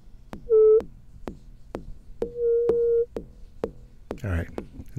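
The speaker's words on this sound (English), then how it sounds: "that slight amount, well, that little bit of ringing" A modular synth drum module with its resonance turned up fires a steady train of short percussive hits, some ringing out in sustained tonal hums, before a voice starts talking near the end.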